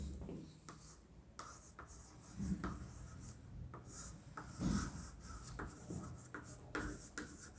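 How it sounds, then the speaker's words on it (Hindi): Pen or chalk writing a definition by hand, heard as soft, irregular scratching and tapping strokes up close over a faint background hum. "चलिए अब इसकी परिभाषा हम लिखते हैं।"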